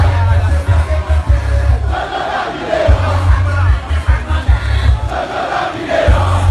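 A big crowd at a street march for peace, voices roaring and chanting in loud surging waves that swell and ease again, close and dense the whole way through.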